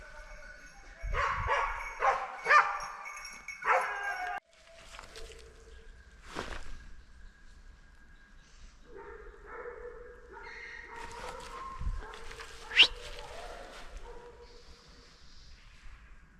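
During a driven hunt, a hunting dog chasing a roe deer gives repeated excited barks and yips at middle distance, with rustling footsteps and brief faint voices between the bursts.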